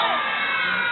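A zoo crowd at a sea lion display shouts out an answer together on a count of three, a loud, brief burst of many mixed voices, children among them.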